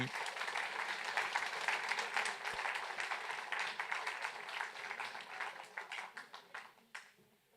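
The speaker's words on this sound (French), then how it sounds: "Et je vous demande d'applaudir Daniel chaleureusement." Audience at Les Rencontres du Vexin gives Daniel Rouaud warm, sustained applause, dense clapping that carries on steadily before thinning into scattered claps and fading out.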